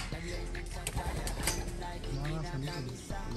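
Pigeons coo in soft, low repeated phrases close by, mixed with light chirps and a flutter of wings, while people talk over them.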